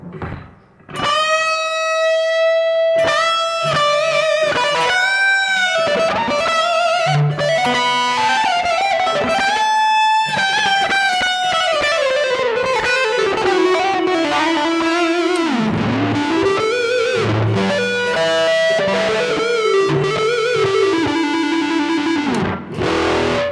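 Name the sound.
electric guitar fuzz tone with delay effect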